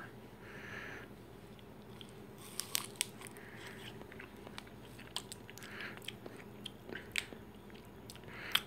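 Someone bites and chews a frozen EnergIce energy drink ice pop close to the microphone: sharp icy cracks and crunches scattered over a soft, steady background hiss.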